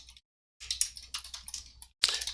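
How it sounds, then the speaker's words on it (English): Computer keyboard typing while code is entered, a quick run of soft key clicks in short bursts with brief pauses, fairly quiet and close, no talk. "for ease of presentation, I'm typing it up in Xamarin"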